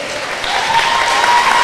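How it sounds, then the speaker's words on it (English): A netball crowd at a Europe Netball Open Challenge match between Isle of Man and Gibraltar breaks into loud, sustained applause, a close, dense wash of clapping with no voices over it. "the crowd giving a huge round of applause for Okanya"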